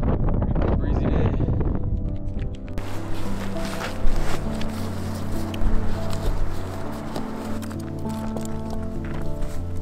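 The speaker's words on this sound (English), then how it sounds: "Good breezy day." Wind rushes over a mountain pass on a breezy day near Gannet Peak, buffeting the microphone with loud, gusty broadband roar that swells and dips throughout.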